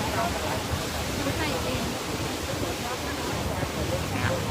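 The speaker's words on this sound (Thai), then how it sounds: "น้ำไหลครับน้ำหลากนะครับ" Floodwater surging through a breached embankment at Ban Samrong, Kosum Phisai, Maha Sarakham, Thailand, during emergency repairs, making a steady broadband roar like a waterfall that runs throughout, with someone talking over it.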